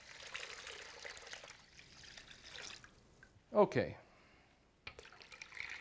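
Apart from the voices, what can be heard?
pouring cold water into brine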